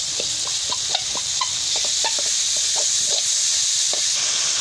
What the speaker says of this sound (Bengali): মশলাটা কষানো শেষ।